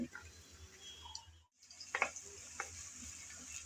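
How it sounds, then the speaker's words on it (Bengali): Chopped onion drops into warm oil in a pan for a Bengali drumstick recipe, a faint low sizzle broken by a brief dropout, then a couple of louder clinks and stirring scrapes. "এখন পেঁয়াজ কুচি করে রেখেছিলাম, সে পেঁয়াজ কুচি দিয়ে দিলাম তেলের মধ্যে।"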